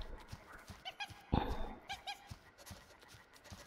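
A dog in the horror adventure video game Happy Game gives quiet, short barks and yelps in a loose rhythm, with panting breaths between them and one louder burst partway through.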